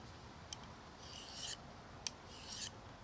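Two slow strokes of a knife drawn across a sharpening stone give soft, close scraping rasps, each preceded by a light tick, quiet over a faint background hiss.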